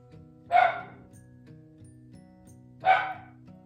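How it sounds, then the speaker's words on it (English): A puppy gives two short, sharp barks a couple of seconds apart over a faint steady hum. "That's my puppy making a lot of noise."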